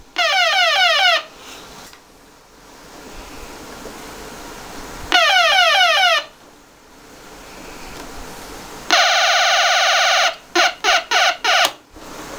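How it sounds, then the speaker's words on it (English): He-Man Starship Eternia toy's electronic sound system emits loud, buzzy warbling electronic bursts in three separate runs, the last breaking into rapid stuttering pulses, with quiet gaps between. "it has a little electronic light and sound system"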